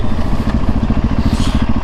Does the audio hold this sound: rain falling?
no